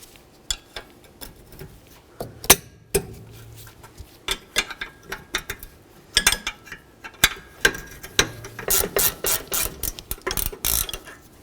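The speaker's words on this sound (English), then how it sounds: "Now we'll continue on to our 2 caliper bracket bolts using our 19mm." A ratchet with a 19mm socket loosens the brake caliper bracket bolts on the rear brakes of a 2012-2020 Nissan Pathfinder, heard as rapid close clicking in bursts with metallic taps, growing busier toward the end.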